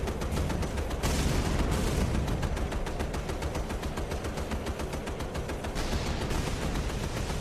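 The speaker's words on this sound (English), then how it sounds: "Fire AA guns at it." Rapid anti-aircraft gun bursts from a warship in the naval combat game Battlestations Midway, a dense, continuous rattle of fire with heavy booming undertones, loud and sustained without pause throughout.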